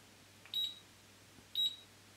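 Auto-opening heat press pressing T-shirts at 160 degrees gives two short high electronic beeps about a second apart as its timer ends, clear over a quiet hum.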